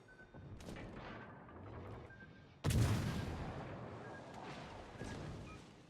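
Naval gunfire in the ship combat game World of Warships Legends: one heavy, booming artillery salvo with a long rumbling tail, set among fainter distant shots and a steady background of battle noise.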